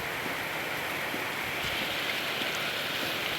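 Heavy rain from the first downpour of the year, a steady dense hiss of falling water with faint scattered drops, continuous and even throughout, with no voices.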